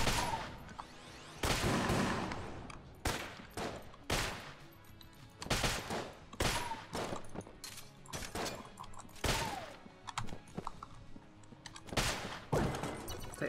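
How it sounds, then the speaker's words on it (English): Rapid bursts of automatic gunfire from a Thompson submachine gun in the Enter the Gungeon video game, loud and close, coming in repeated clustered volleys with brief pauses between them and no talking. "Have a decent Thompson submachine gun"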